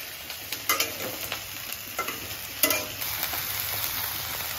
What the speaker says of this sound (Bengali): মাছটা ভাজা হয়ে গেছে মনে হয়।